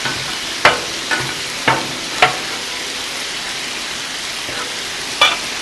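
A steak and shrimp hibachi-style stir fry sizzles steadily on a Blackstone griddle, and a spatula scrapes and taps against the flat top in several sharp, close clicks over the constant hiss.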